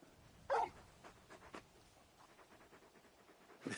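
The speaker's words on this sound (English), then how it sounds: "You're just a big puppy, aren't you? A very big puppy." A large dog pants in Final Fantasy XVI, giving one louder huff followed by soft, rapid breathy pants. The sound is faint and close against a quiet background.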